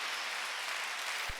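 A church congregation clapping during a Sunday worship service, an even wash of many hands applauding throughout, with one soft low thump near the end.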